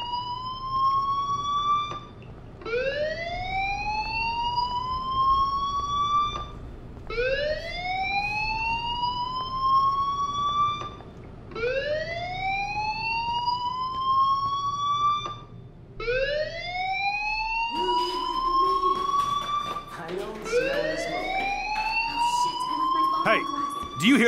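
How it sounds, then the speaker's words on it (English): A fire alarm in the video game Life is Strange sounds in repeated rising whoops, five or six evenly spaced sweeps, loud and steady throughout, with background game ambience beneath. "Do you hear that fire alarm?"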